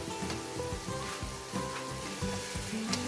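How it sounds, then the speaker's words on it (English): Ginger garlic paste frying in a pan gives a steady crackling sizzle, with stirring scrapes at intervals, close and moderately quiet. "So just fry it nicely until that raw smell goes off from the ginger garlic paste"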